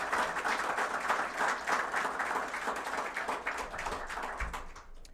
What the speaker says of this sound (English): I'd really like everyone to give them a round of applause for their important role in this process